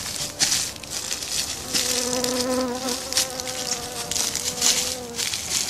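Bees hum and buzz around a beehive outdoors, a dense close drone with wavering pitches as individual insects pass near, steady and loud throughout, with no voices.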